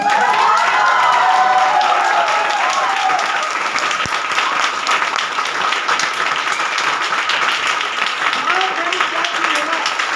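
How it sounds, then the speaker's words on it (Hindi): A large seated audience at a Hindi-language motivational event rises and claps loudly, a thick, sustained roar of applause with some cheering and shouts mixed in, close and continuous for the whole stretch. "अरे एक बार खड़े होकर के जोरदार तालियां"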